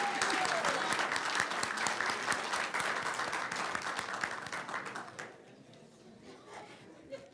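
Applause at a school board meeting after a child is introduced, dense steady clapping from a room of people lasting about five seconds before tapering off into scattered claps and quiet room tone.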